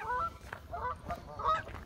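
Geese honking at a lake, three loud nasal honks in quick succession, close and clear against light outdoor background noise, no talking.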